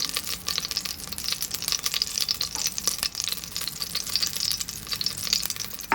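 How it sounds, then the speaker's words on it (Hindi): Cumin seeds crackle and sizzle steadily in hot oil in a pressure cooker, a dense continuous frying hiss with fine popping throughout, close and fairly loud, with no voices. "यहाँ पे मैं ऑयल गरम हो गया, इसमें डाल दूँगी थोड़ा सा ज़ीरा।"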